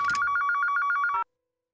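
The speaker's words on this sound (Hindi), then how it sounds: "जग्गी जी का फोन है, मैं स्पीकर पे डालती हूँ।" A telephone rings with a loud, rapid electronic trill pulsing steadily for just over a second before cutting off abruptly into silence.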